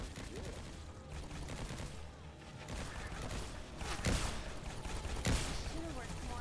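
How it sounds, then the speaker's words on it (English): A shotgun fires a few heavy blasts in The Pit, a 2012 PC video game. The shots sit inside a dense, loud mix of game noise. "Oh, it's a shotgun."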